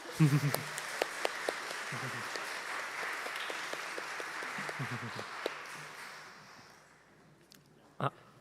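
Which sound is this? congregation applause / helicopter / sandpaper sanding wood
congregation applause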